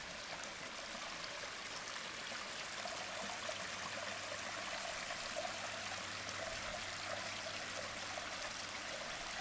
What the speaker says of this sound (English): Water's going underneath that stone nicely,